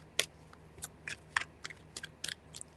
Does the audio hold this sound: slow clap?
no